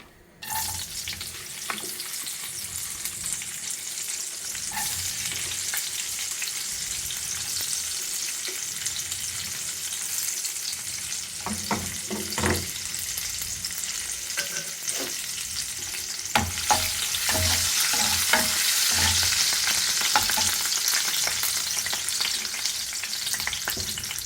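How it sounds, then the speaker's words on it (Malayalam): Raisins frying in a pan crackle and sizzle steadily for a long stretch, with scattered stirring clinks and a slightly louder hiss toward the end. "നമുക്ക് കിസ്മിസ് ഒന്ന് പൊരിച്ച് വെക്കാം"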